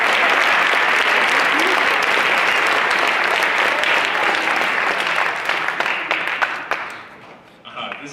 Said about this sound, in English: So please give it up for them and just give them a round of applause.